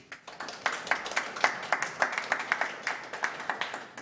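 Members of the public clap at a city community council meeting, a scattered round of sharp claps from a moderate distance that runs steadily for about four seconds with no talk over it.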